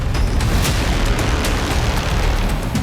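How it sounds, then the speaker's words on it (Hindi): Iranian ballistic missiles exploding over North Tel Aviv produce a loud, sustained booming roar with sharp cracks scattered through it, heavy and continuous throughout. "दिन के उजाले में भी ईरान की मिसाइलें भीषण विस्फोट करती रहीं।"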